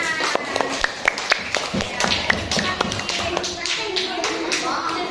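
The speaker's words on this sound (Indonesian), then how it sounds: "Wah, tepuk tangan." A classroom of children claps together, a quick burst of sharp, fairly close hand claps that trails into scattered taps, with a little talk underneath.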